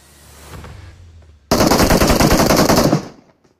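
Automatic gunfire in PUBG Mobile erupts from behind after a quieter lead-in, a loud sustained burst of rapid shots lasting about a second and a half before cutting off.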